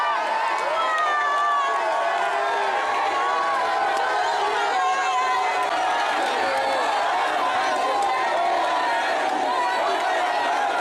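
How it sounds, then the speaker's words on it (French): A large crowd cheers and chatters while welcoming the DR Congo president at a road inauguration, a loud, steady, close wash of voices and whoops with no pauses. "Sur place, il était accueilli par un bain de foule."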